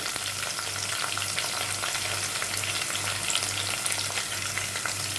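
Curry leaves sizzle in hot oil with softened onion for a crab curry, a constant close, crackling fry with a low rhythmic hum pulsing underneath and no talking.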